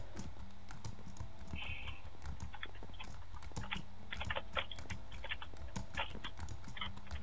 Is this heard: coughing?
no